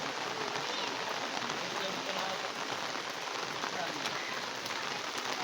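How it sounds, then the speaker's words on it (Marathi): Steady rain falls and patters on the stone of the ancient Shiva temple at Ambarnath, an even, enveloping wash of drops with no break. "पाऊस पडतोय मस्त आहे की."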